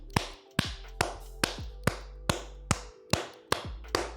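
Sharp claps repeat at a steady pace, about ten in a row, loud and close, with no talking.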